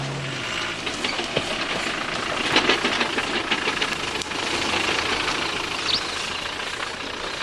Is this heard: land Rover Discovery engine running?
yes